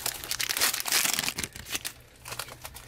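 Yu-Gi-Oh card pack wrappers crinkle and tear open in close, dense bursts of foil crackling that ease off into scattered lighter rustles.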